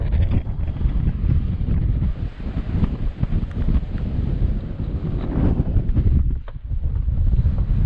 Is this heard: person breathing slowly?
no